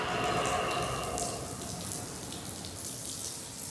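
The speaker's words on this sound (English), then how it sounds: "Wet the ground with clean water." Water pours and splashes steadily onto a hard floor, wetting it before a sealer is applied, a continuous hissing spray with a low rushing undertone.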